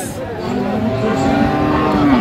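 Friesian and cross-breed heifer calves at a busy cattle market, low lowing and bellowing rising steadily over a dense background of crowd noise and people talking nearby.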